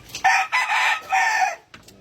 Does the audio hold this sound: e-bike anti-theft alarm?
no